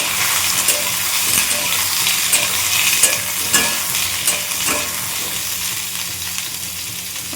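Loud, continuous sizzling of food frying in a pan, with scattered crackles and occasional scraping stirs.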